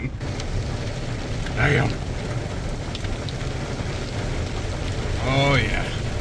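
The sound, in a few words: rain falling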